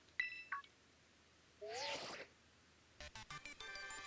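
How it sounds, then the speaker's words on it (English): Incoming call alert on the Rotom phone in Pokémon Scarlet: a short melodic electronic ringtone with tonal chirps, a brief noisy burst, then a busier run of synthetic beeping notes, fairly quiet and without talk. "And we're getting a call on the Rotom phone."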